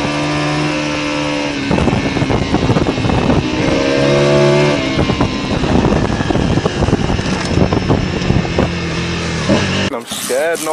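A motorcycle engine revs hard with its throttle stuck open, giving a loud, sustained roar whose pitch climbs and wavers for about ten seconds before cutting off abruptly near the end.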